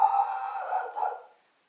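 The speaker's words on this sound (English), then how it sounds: "We'll just pause while the dog barks." A dog gives one drawn-out, tonal bark or yowl indoors during a home exercise class, lasting about a second before fading into silence.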